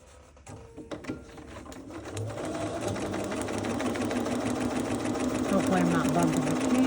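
Sewing machine stitching fabric for a mango quilt block, running steadily and growing louder, with a brief pause and back stitch, heard up close with no talk.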